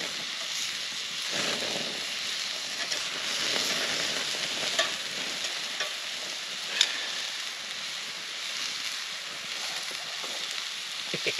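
Mushrooms fry in salted butter over a campfire outdoors, giving a continuous close sizzle and hiss with scattered pops and crackles throughout, and no one talking.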